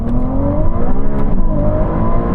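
Two cars in a rolling race, pulling hard in second gear from 30 mph in manual mode and their sportiest setting, the engine note loud, close and climbing steadily in pitch throughout.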